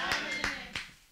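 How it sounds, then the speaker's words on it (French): A church congregation applauding, a few separate loud claps in an uneven rhythm, close, with a voice speaking alongside. "Acclamons pour la gloire de Jésus."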